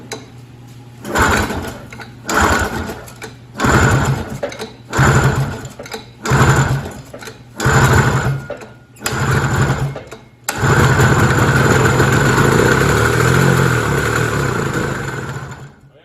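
A cheap snowmobile's engine, recently given a head gasket repair, revs in short loud bursts as the throttle opens and closes, then holds a long sustained roar near the end.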